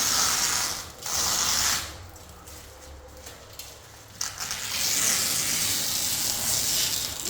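A scraper strips peeling sheets of old paint off a wooden window sash in steady, loud rasping strokes, with a short lull in the middle before the scraping resumes, heard close and without talk.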